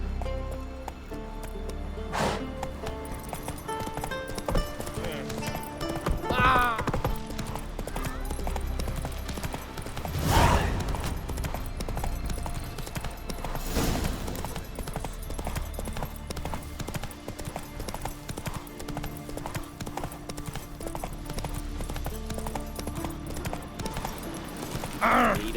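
Roach, a horse in The Witcher 3, gallops with steady rapid clip-clop hoofbeats throughout, loud and close, with a brief snort or whinny and occasional game voices over the hooves.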